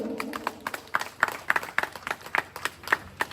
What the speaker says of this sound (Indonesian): boleh saya minta tepuk tangannya Bapak Ibu